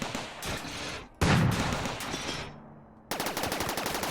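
Turrets firing in RimWorld during a fight on an extreme desert map. The bursts come in rapid volleys. They pause briefly near the middle, then return as a dense, loud rattle.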